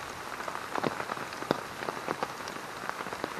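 A light rain shower pattering on a poncho tarp at an urban stealth camp, quiet, close, irregular drops tapping throughout with no voices.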